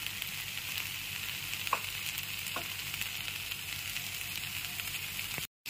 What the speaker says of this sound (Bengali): ধনেপাতা কুচিটা দেওয়ার পরে খুব ভালো করে একবার মিশিয়ে নেব।